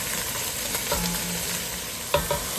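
Mushrooms sizzling and frying in a pan for shrimp linguine, a steady close hiss with a few light stirring clinks and one sharper knock near the end, no voices.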